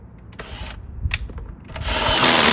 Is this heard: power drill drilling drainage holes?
yes